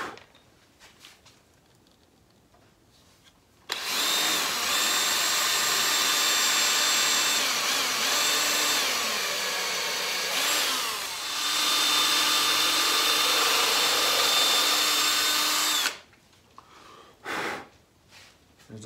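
A power drill whines continuously for about twelve seconds, dipping briefly once as it bores a pilot hole in elm wood, then stops, leaving quiet room sound and a few small clunks.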